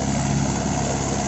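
A Mahindra 575 XP Plus tractor running a 7-foot rotavator makes a brief, fairly loud, continuous low engine hum that holds steady throughout.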